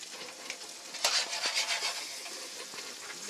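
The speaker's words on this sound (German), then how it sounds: "Das brutzelt in der Pfanne, ja." Food sizzles and crackles in a frying pan aboard a boat crossing the Atlantic, quiet and close, with a brief clatter of stirring partway through.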